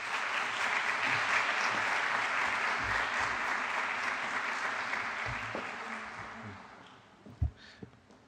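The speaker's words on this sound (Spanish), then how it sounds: "Un aplauso, por favor." An audience claps together at a conference talk on science observatories, a dense burst of applause that holds strong and then thins out toward the end, leaving a few scattered claps and small thumps.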